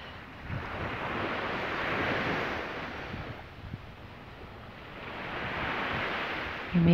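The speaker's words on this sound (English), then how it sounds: "You may use the sounds of the waves" Ocean surf rolls in continuous swells, rising and falling in slow surges, with rushing wind buffeting the microphone and no voices.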